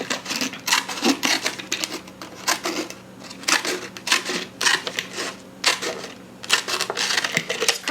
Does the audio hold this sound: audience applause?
no